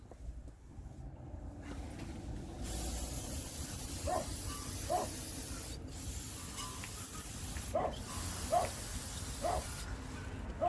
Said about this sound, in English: Then you get the old brake cleaner,